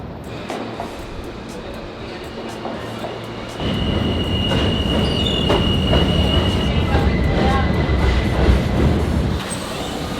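A Queens-bound J local subway train in New York City rumbles and clatters past, growing louder midway with rhythmic wheel clicks and a faint high squeal, a steady loud roar throughout.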